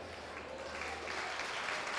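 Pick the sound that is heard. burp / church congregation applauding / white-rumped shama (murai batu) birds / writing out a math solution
church congregation applauding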